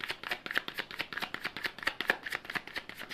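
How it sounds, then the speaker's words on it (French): A tarot deck being handled and shuffled before a card is drawn, producing a rapid, steady run of crisp papery riffles and flicks close by, with no talking over it. "je vais prendre une petite carte"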